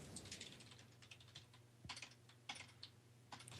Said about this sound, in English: I'm typing in chat room, that's why I'm a little quiet